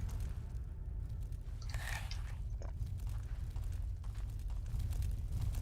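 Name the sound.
fire burning in the video game Legend of Grimrock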